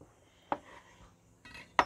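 Faint knife strokes cutting a lion's mane mushroom into slices on a board, with a few sharp clicks of the blade meeting the surface, spaced irregularly in a quiet kitchen.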